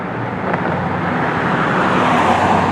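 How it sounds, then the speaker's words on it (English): A car rolls past on a smooth, freshly resurfaced road in Apple Valley, a steady broadband tire-and-engine rush that builds slightly as it nears, with no thumps or bumps. "Watch this car as it goes by."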